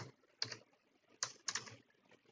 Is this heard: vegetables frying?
no